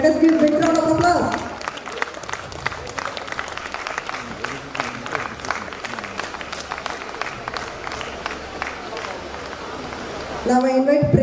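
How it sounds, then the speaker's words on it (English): Audience applause at a university golden jubilee celebration, steady scattered clapping filling the middle of the clip, with a voice speaking over the microphone before and after it. "Let us give big round of applause."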